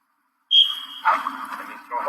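A coach's whistle at a football tackling drill: one short, shrill blast, then a voice starts talking right after it.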